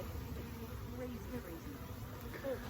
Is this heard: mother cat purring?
no